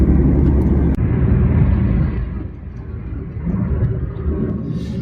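Cabin drone of a 2014 Ford Fiesta 1.6 TDCi van driving at the national speed limit, a loud continuous low rumble with road noise that dips slightly midway, then swells again.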